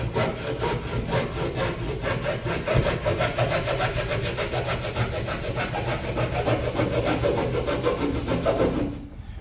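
Saw cutting a wall opening along a traced template for a TV mount, a loud, continuous rapid rasping buzz for about nine seconds that stops abruptly at the end.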